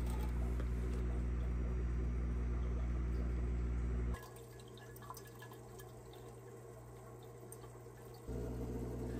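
Murky water is squeezed from an old aquarium filter sponge, trickling and splashing in faint bursts, with a quieter pause in the middle before the flow resumes.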